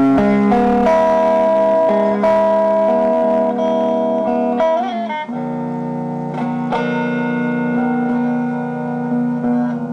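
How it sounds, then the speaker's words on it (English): Electric guitar played through an amp with the neck pickup in humbucker mode and no echo, close and loud, with sustained chords and single notes ringing out over several changes. "neck pickup in humbucker mode with no echo"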